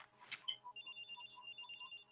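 A telephone rings in a steady run of repeated electronic trills, fairly quiet and alone, with no talking over it.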